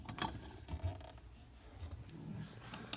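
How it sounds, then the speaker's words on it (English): A small nut is screwed back onto a bathroom sink stopper, making quiet, close metallic scraping and ratcheting clicks that come irregularly. "now you're gonna put the little nut back on"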